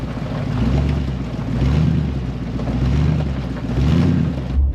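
A deep, steady exhaust rumble from an idling OBS crew cab pickup truck with turbo mufflers, close by, swelling and easing in slow, regular pulses.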